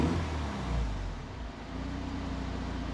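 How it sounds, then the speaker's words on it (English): Mazda RX-7 rotary engine idling unevenly, a close low rumble whose level sags and rises as the idle hunts, then settles into a steady drone. "the car is still kind of hunting in its idle"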